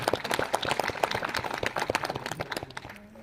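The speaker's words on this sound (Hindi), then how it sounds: "इतनी जोर से तालियां बजाइए कि इन सबको अपने आप से प्यार हो जाए।" An audience at a seminar on solid waste management claps together in a dense, close burst of applause that fades toward the end.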